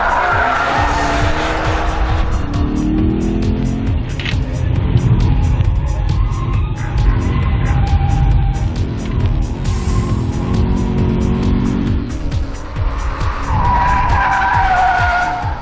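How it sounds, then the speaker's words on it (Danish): A SEAT Ibiza Cupra with a 1.8 engine driving hard on a race track, tires squealing and skidding loudly and repeatedly over the steady engine roar throughout. "Kommer ud og kører i Ibiza ude på banen, så mærker man altså, at den her motor, den er så potent."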